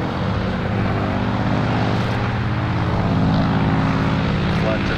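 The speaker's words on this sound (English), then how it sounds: "Powered by two 1450 horsepower Pratt and Whitney radials," A de Havilland Canada DHC-4 Caribou with two 1450 horsepower Pratt and Whitney R2000 radial engines at an air show, heard as a loud, steady, throbbing propeller drone filling the whole clip.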